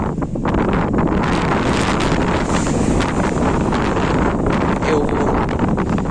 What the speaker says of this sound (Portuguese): O vento também é lindo.